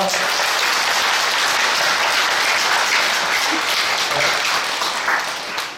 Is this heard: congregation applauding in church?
yes